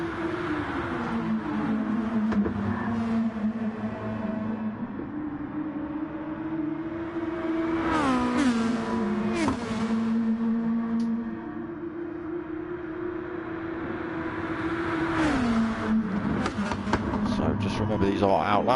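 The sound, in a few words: race cars driving out laps at Le Sarthe, video game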